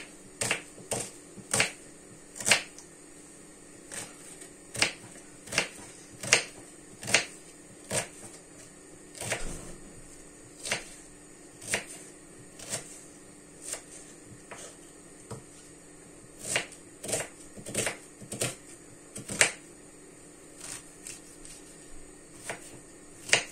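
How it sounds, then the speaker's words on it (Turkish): Repeated sharp knife chops through onions on a cutting board, irregular but steady, close and crisp with no talking. "Soğanları da doğrayacağım arkadaşlar etin içine."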